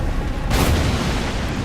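A jar cannon fires in Elden Ring, giving a single dull booming blast with a short rumbling tail over steady game background noise.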